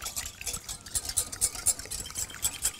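A spoon stirs salted cream in a bowl, making quick, rhythmic scraping and clinking strokes close up, with no voices over it.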